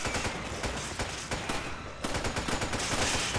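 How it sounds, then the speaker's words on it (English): Sustained gunfire in Resident Evil 5 rattles in dense, rapid bursts of repeated shots, loud and continuous for the whole stretch with no talking. "Ready to open fire on this asshole?"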